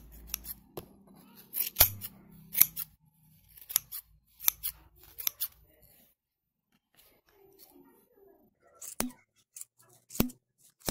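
Scissors snipping through yarn to trim a crocheted pompom for a baby beanie, a string of sharp close cuts in irregular bursts with quiet pauses between them.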